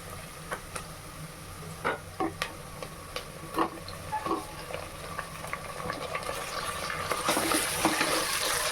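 Chopped tomatoes go into a pan of browned onions for kodi pulao, giving a soft steady sizzle with faint ticks and scrapes as they settle, no talking.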